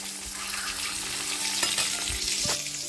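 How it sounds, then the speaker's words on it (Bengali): An egg frying in a pan until well browned makes a dense, continuous sizzle close by, with occasional light clicks of a spatula and a steady hum underneath. "ডিমটাকে একটু লাল লাল করে ভেজে নিচ্ছি"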